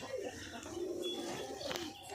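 Pigeons for sale, freshly released outdoors, giving soft low cooing calls close by, with a faint chirp and background rustle.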